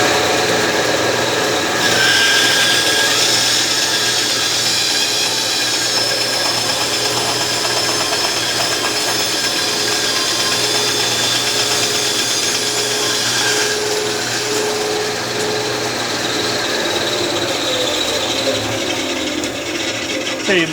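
Saw cutting through wood to make push sticks, a loud continuous grinding rasp that runs steadily throughout with a slight change in tone partway.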